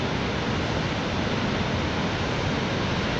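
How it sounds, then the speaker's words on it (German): A waterfall carrying little water, in Kinsarvik, Norway, rushes in a steady, even roar of broadband noise with no pauses, and nobody is talking. "Die Wasserfälle führen ziemlich wenig Wasser."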